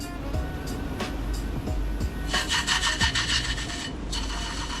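An antique brass letter slot is pressed against a spinning buffing mop loaded with medium cut compound, giving a close, steady rubbing and scraping with rhythmic pulses as the piece is worked back and forth over a low motor drone.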